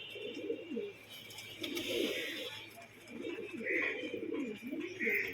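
Domestic pet pigeons, including Kaldoma, Lal Chhapka and Kalanka Madras birds, coo in repeated throaty rolling bursts close by, with a few higher chirps and low voices in the background.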